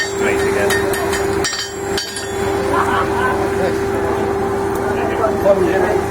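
Small hammer taps ringing on metal as a blacksmith forges a hanging hook, a few sharp strikes over a steady hum and background noise, with speech running underneath.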